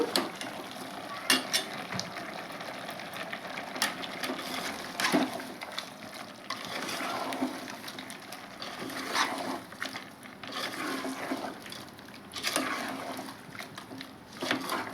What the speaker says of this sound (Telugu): కోసి పెట్టుకున్న టమాటా ముక్కలు, కరివేపాకు వేస్తున్నాను. వీటిని ఒకసారి కలుపుకుందామండి.